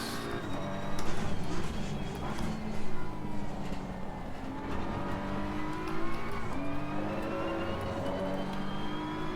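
Race car engine in Assetto Corsa Competizione at Barcelona, droning and shifting pitch steadily through corners with traction control cutting in, a constant loud whine with brief swells.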